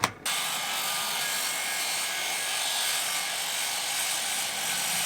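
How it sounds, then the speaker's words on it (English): A miter saw cuts wood panels to size outdoors, a sharp click followed by a loud, steady, hissing, high-pitched roar that holds without a break. "I cut them down to size with my miter saw."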